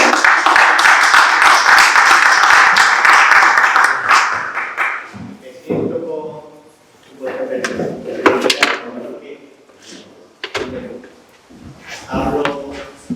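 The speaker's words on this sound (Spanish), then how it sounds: "vamos a dar un aplauso y todo." An audience at a book fair talk in a library applauds, a loud burst of clapping for about four seconds that breaks off into scattered claps, shuffling and people speaking.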